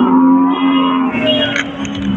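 A dairy cow lows at a Sangola cattle market, one long, loud, close moo that holds steady before shifting pitch toward the end.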